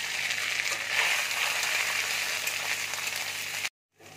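Banana stem sizzling and frying steadily in hot oil seasoned with black cumin, a continuous close crackle that cuts off abruptly near the end.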